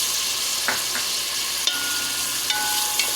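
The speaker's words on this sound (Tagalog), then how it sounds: "dito magisa naman ako ng sibuyas" Onions sautéing in a pan for a macaroni chicken dish, with a steady broadband sizzle and a few faint clinks of stirring, close and alone.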